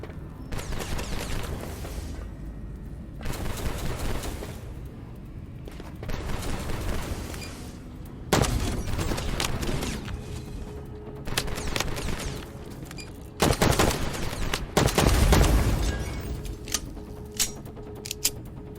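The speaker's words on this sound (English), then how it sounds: "Good old exploding barrels." Exploding barrels blow up in the sci-fi shooter AI Olympius, with a run of loud, sharp blasts and crackling gunfire-like bursts spread across the stretch, several heavy booms standing out near the end.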